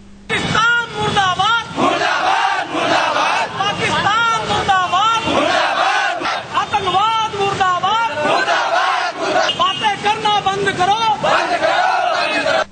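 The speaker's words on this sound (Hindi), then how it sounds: "पुतला फूंका और इस दौरान जमकर नारेबाजी हुई।" A large crowd of Vishwa Hindu Parishad and Hindu group protesters at a district headquarters shouting slogans against terrorism and Pakistan while burning an effigy, loud continuous massed voices and rhythmic chanting throughout.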